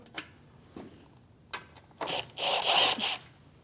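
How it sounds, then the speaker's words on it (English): Plastic engine splash shield on a Chevrolet Malibu shifted around by hand, a few scattered taps and scrapes followed by a louder rasping drag of plastic, close and alone. "I have the freedom to move the shield around just like this to find the mounting screw"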